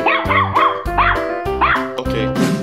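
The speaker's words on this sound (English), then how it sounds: "Dog." A dog barks close and loud in a quick series of about five yappy barks, ending with a short whimpering yip.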